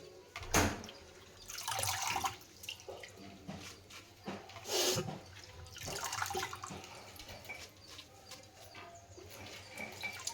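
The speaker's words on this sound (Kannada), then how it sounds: "ಇನ್ನೊಂದು ಸರಿ ನೀರು ತೆಗೆದು ಇದಕ್ಕೆ ಹಾಕ್ಬಿಡೋಣ" Water splashing and pouring in bursts while washing roselle (pundi) greens, with brief louder gushes over a running-water background, close by and fairly quiet.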